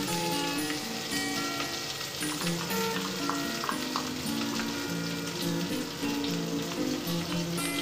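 Onion fries and browns in a pan with a steady, close crackling sizzle, dotted with bright pops and light stirring scrapes throughout.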